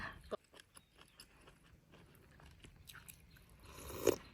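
Crunchy food being bitten and chewed close up, a grilled dark-skinned bite crisp outside and soft inside, with scattered small crunches and one louder bite near the end, no talking.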